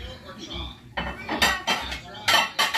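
Two wide, heavy plates come out of a balikbayan box during unboxing, clattering and clinking against each other in several sharp knocks close by, with a faint voice in the background.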